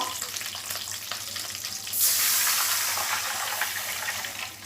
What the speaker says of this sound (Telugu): ఇప్పుడు నీళ్లు పోస్తానండి ఇందులో నేను